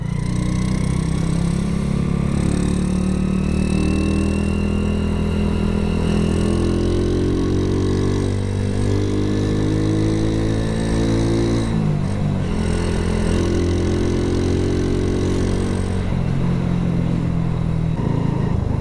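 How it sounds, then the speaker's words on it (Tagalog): A motorcycle engine drones loudly and continuously while riding in road traffic, the pitch rising and falling with throttle changes and a brief dip midway, with no talking. "Traffic ka."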